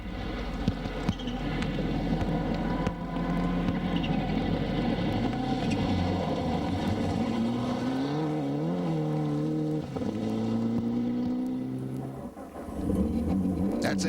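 Rally car on a gravel stage in Oregon Trail rally racing, engine droning and rising in pitch as it approaches and accelerates, a continuous mid-distance roar with gear changes near the end.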